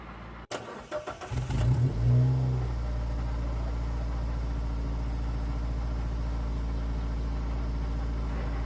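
A car with a manual clutch and key ignition cranks briefly, catches and settles into a steady, close idle that runs alone to the end.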